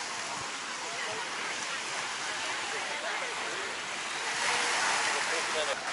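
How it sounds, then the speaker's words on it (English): Surf rolling onto St Pete Beach, Florida, a steady broad wash of waves with some wind noise, swelling slightly louder near the end, heard alone at moderate distance. "So this is what the beach looks like."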